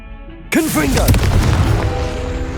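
The Confringo explosive spell in Hogwarts Legacy erupts with one sudden loud boom, followed by a crackling, swirling magical burst and ringing tones that fade slowly.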